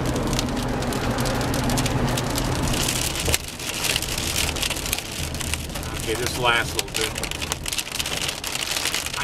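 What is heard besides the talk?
rain falling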